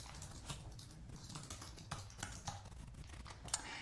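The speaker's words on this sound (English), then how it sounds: "you can do that just by typing their email address" Quiet, rapid typing on a computer keyboard while an email address is entered, with a steady patter of light key clicks and no voices.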